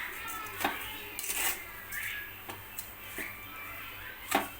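A spoon scrapes and taps against a pan as semolina and sugar for kesari are stirred, giving scattered faint metallic clinks at an irregular rhythm over quiet background.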